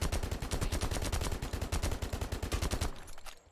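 Rapid, loud M91 rifle fire in the shooter game Lost Light, a dense string of close shots that stops abruptly near the end.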